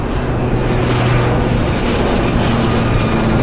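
Steady, loud roar of an airliner's engines during a takeoff run in a flight simulator, a continuous broadband rumble with a faint tonal hum, no pauses and no voices.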